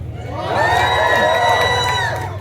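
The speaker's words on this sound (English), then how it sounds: "I couldn't hear you over the cheering for me" Live audience at a theme-park character story time cheering, a swelling burst of whoops and shouts from adults and children that peaks and then fades over about two seconds.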